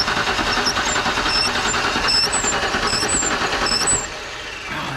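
A Ford Bronco engine with a failing distributor idles roughly and unevenly, sputtering with a high whine on top, then dips and quiets near the end; no talking.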